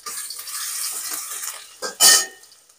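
Green chilli, ginger and garlic drop into half a ladle of hot oil, giving a bright, steady sizzling hiss up close, then a short loud spitting burst near the end before it fades.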